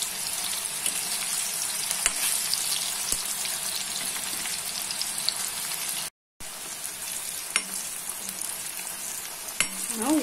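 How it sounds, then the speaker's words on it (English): Bitter gourd pieces fry on high flame in a steady, dense crackling sizzle with occasional light clicks of stirring and a brief dropout partway through, with no talk. "Fry them on high flame."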